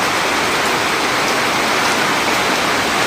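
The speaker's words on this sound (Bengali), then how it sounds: "এই যে অনেক জোরে বৃষ্টি নেমেছে।" Heavy rain pours down in a steady, dense roar, loud and unbroken throughout with no voices.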